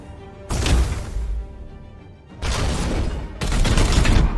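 Support fire from a Warhammer 40,000: Chaos Gate Daemonhunters battle, with sustained bursts of gunfire arriving in three loud, dense volleys separated by brief lulls.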